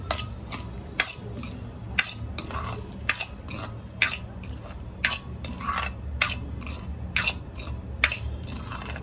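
Semolina roasting in a pan is stirred with a utensil, giving a steady series of light scraping strokes over a low background hum, close and fairly quiet, with no talking.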